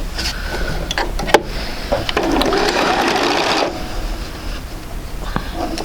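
Electric sewing machine stitching quilt sampler pieces together, close whirring runs of needle motor with a longer burst in the middle, clicks and fabric handling around it.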